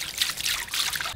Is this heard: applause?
no